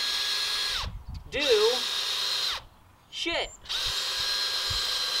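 A cheap, low-powered drill bores into rock, whining steadily in several bursts that stop and restart with short gaps between them, with a voice speaking during the pauses.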